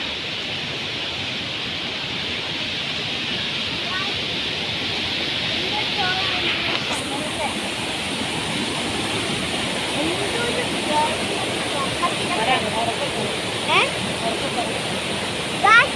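A stream at Poompara rushing steadily nearby, a dense, even roar of flowing water that fills the whole stretch without a break.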